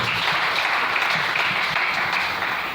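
A church congregation applauding and acclaiming during a French-language worship service, dense sustained clapping filling the room evenly from start to finish, loud and without pauses.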